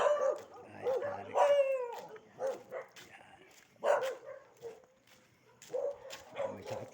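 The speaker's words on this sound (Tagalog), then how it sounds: "May sakit na tuta." A sick puppy barks and yips in short irregular bursts with a few whimpers, moderately near and fairly quiet, with an outdoor background.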